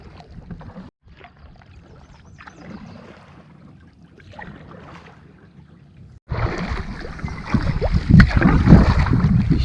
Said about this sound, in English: doing a little bit more paddling than I necessarily needed to